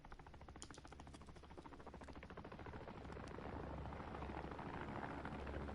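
Helicopter in the video game Modern Warfare, St. Petrograd survival mode, a steady whirring rotor drone that builds gradually louder and nearer, with no talk over it.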